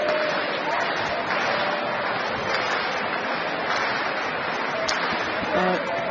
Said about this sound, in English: He got the crowd going finally.